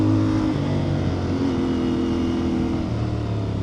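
A motorcycle exhaust rumbling loudly and revving up and down, close to the microphone with steady wind noise.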